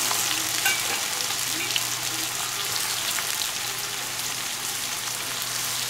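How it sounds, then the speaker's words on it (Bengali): Four large chopped onions fry in ghee for Kolkata-style mutton biryani, a steady, close sizzle with crackling spits throughout. "দিয়ে আমি গ্যাস বাড়িয়ে হালকা ব্রাউন করে এটা ভেজে নেব।"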